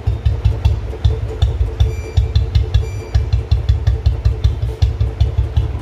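An NCR motorcycle engine with an automatic decompressor, tuned to idle very slowly, thumps at low rpm in a steady loud loping beat, each firing pulse distinct, with faint mechanical clatter and no talk.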